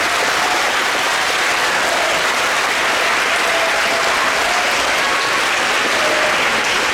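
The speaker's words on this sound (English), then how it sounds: "let's give those parents a round of applause" Steady, loud applause from a school band concert audience honours parent volunteers, sustained evenly throughout without talk.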